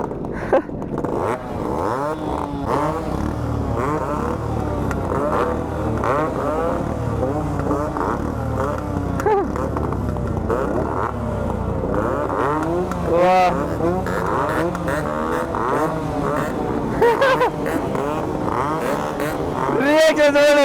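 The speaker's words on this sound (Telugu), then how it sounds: "ఒక్కొక్క బండి స్టార్ట్ అవుతుంది, ఒక్కొక్క బండి స్టార్ట్ అవుతుంది. అన్ని బండ్లు స్టార్ట్ అయినాక ఒకేసారి రేవిస్తారు." A group of Yamaha RX-135 two-stroke motorcycles run loudly together with a dense, continuous engine drone and occasional rises in revs, with voices mixed into the noise throughout.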